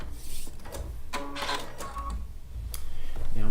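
A sewing machine runs in short bursts of rapid mechanical stitching with brief pauses between them, close and clear, as it backs up a few stitches, with a low hum underneath.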